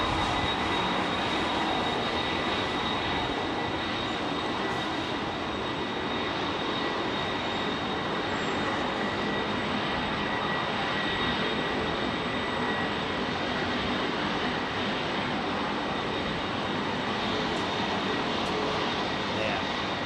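An Airbus A350 jet roars down Heathrow runway 27R on takeoff, a loud broadband engine rumble held steady and close throughout, with a voice talking faintly underneath.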